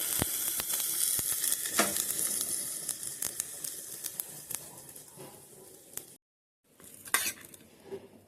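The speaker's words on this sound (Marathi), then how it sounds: "बघा आपली काळजा फ्राय झालेली आहेत मस्तपैकी" Fish liver frying in a pan over a gas flame, a dense crackling sizzle with sharp pops, steady and close, briefly cut to silence near the end before the sizzle resumes.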